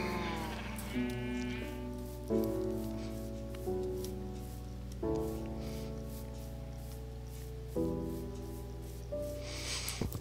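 Cows in the video game Minecraft moo repeatedly, several drawn-out tonal calls following one another across the stretch.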